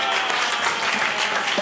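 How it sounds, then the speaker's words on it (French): An audience claps steadily through a live comedy-music show, with dense, even applause filling the whole moment and no pauses. "Allez, on applaudit ensemble"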